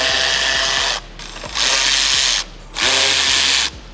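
Power tool, likely an impact driver or drill, spinning out a 10 mm mud flap bolt on a 2022-2024 Toyota Tundra: two loud, sustained high-pitched runs of about a second each, separated by short pauses, close by with no talking.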